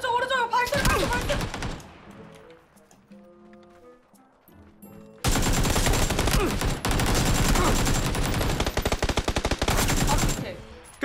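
Rapid automatic gunfire in a video game rattles out in dense bursts, breaks off into a quieter stretch, then returns as a long, loud, sustained fusillade.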